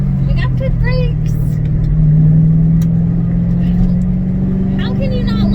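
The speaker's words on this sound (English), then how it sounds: "It drones a little bit with this straight piped exhaust, but it's gonna be a race car, so it's okay." A Ford Mustang GT with a straight-piped exhaust drives along, its loud steady engine drone continuous throughout with a slight rise in pitch, while someone talks over it from inside the car.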